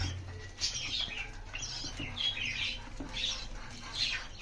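Pet birds feeding their chick, with soft repeated wing flutters and faint chirps close by in a quiet indoor space.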